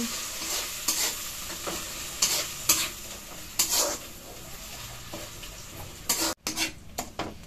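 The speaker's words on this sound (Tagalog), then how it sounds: "hinahalo-halo lang po natin nung pagkalagay po natin ng alamang" Alamang shrimp paste being stirred in a pan, with repeated scraping strokes of a utensil against the metal over a low sizzle, close and clear with no talking.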